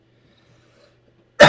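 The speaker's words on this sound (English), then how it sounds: "this cough is not getting away. It's just dry cough" Near silence, then a single short, sharp cough bursts out close by at the very end.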